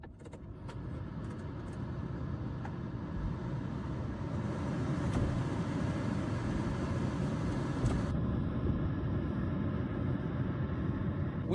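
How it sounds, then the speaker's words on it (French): The air conditioning and ventilation of a 2020 Toyota Yaris Hybrid run inside the car. A steady broadband airflow hum builds slightly and then holds, with a few faint clicks near the start. "On va vérifier la climatisation ensemble."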